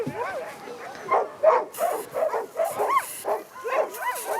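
Sled dogs bark, yip and whimper excitedly before feeding in western Canada, many animals calling in rapid overlapping bursts with a steady, noisy rhythm close by.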